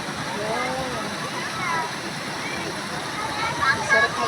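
A river in a steep-walled gorge rushes and splashes in a continuous, fairly close wash of flowing water, with a person speaking over it.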